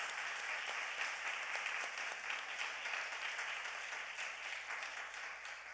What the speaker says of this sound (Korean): 박수 한번 다 쳐줍시다